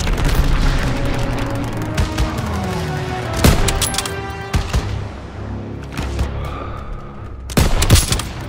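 Dense Call of Duty WW2 combat: rapid gunfire bursts and heavy booming explosions crowd the whole stretch, with sharp loud blasts standing out near the middle and end over constant battle noise.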